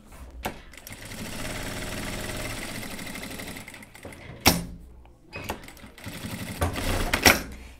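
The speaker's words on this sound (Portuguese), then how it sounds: "A gente faz um pesponto aqui contornando." A sewing machine topstitches along the edge of a boiled wool coat in bursts, a close rhythmic whirr broken by pauses, knocks and handling clatter between runs.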